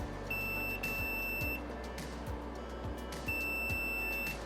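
Continuity beeps from a multimeter probing shorted capacitors on a dead Sony XBR-55X930D TV board: two steady high-pitched tones, each about a second long, with a gap between them, heard over faint clicks and a low hum.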